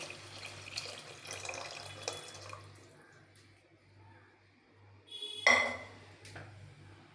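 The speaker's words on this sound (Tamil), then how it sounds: "இப்போ நம்ம இந்த கிரேவி கூட இந்த புளி கரைசலை ஊற்றிடலாம்" Tamarind extract pours into a gravy with a light splashing liquid sound, then a sharp clink of a vessel or utensil, fairly quiet against a low background hum.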